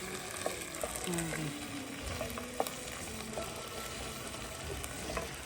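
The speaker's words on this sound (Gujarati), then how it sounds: "તેલમાં જ ભીંડા પકાવવા દઈએ આપણે" Okra (bhindi) cooks slowly in oil on low heat, giving a soft, even sizzle with occasional spoon clicks while a faint voice talks in the background.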